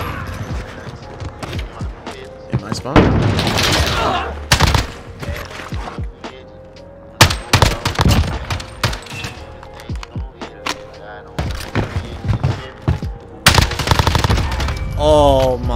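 Gunfire from a rapid-fire AUG rifle in a Search and Destroy match of a first-person shooter, in loud rapid bursts mixed with mechanical clicks and clunks.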